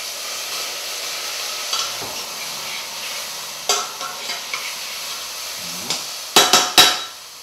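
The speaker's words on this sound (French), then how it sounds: "ce miel, on va le faire caraméliser" Honey caramelizes in a hot pan with sea bass, giving a steady soft sizzle, with a few sharp clacks of a utensil against the pan near the end. The sound is close, and nobody talks.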